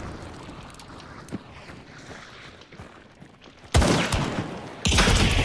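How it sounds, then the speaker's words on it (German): Rifle gunfire in the video game Hunt: Showdown, two loud broadband blasts about a second apart, each followed by a sustained noisy tail, after a stretch of quieter ambient rumble. "Hast du denn jetzt nicht mit deinem Gewehr geschossen?"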